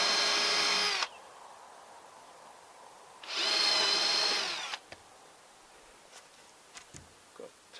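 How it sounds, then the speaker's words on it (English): A power drill bores holes into wooden cladding on a cabin build, two loud whining bursts of about a second each separated by a quiet pause, followed by a few faint clicks and knocks. "I drew a couple of holes to get me started."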